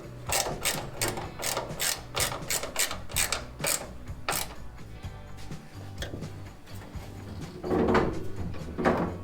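A ratchet tightens the bonnet hinge bolts on a Ford XB 351 Falcon ute, giving rapid bursts of close, crisp clicking for several seconds before quieter metallic handling sounds.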